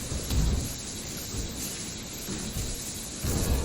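A lightning skill attack crackles in Grim Dawn, a dense rumbling, noisy roar like thunder and rain with stronger bursts near the start and end, no speech.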